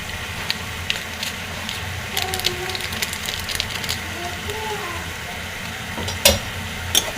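Noodles mixed with noodle masala being stir-fried in a pan, a continuous low sizzle with scattered utensil scrapes and clicks, including a sharper knock near the end.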